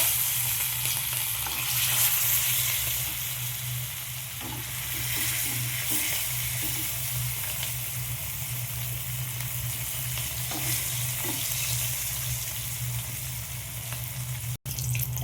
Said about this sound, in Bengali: তেল গরম হয়ে গেছে, এবার আমি মাছগুলো সব ভেজে নেব